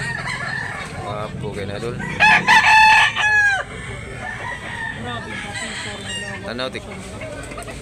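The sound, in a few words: Kabyara white gamecock roosters crowing and clucking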